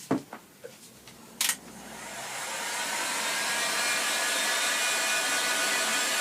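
A hot air blower heating glue on a walking stick dowel, starting after a few sharp knocks and clatters, then rising into a steady airy whoosh that holds loud and constant to the end.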